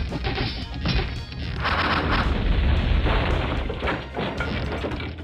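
Catapult attacks in Warcraft 2 send heavy crashes and booming explosions through a dense, continuous battle din that lasts the whole few seconds with no voices.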